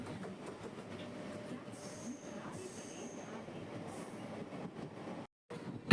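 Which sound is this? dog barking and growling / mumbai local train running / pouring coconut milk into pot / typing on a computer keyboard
mumbai local train running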